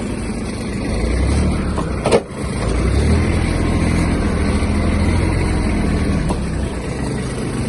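A Kubota GB-16 Japanese mini tractor engine runs steadily, a continuous low rumbling drone with a brief knock around the middle, close and fairly loud with no talking.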